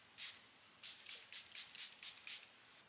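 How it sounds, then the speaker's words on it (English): A Chanel facial mist bottle is sprayed in a string of about eight short, close hissing bursts, the first alone and the rest in an uneven rhythm, with no talking. "I'm actually gonna spray some on right now."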